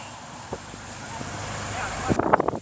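Strong wind roars steadily across rural farmland, a loud continuous rumble against the microphone, with brief voices and thumps near the end.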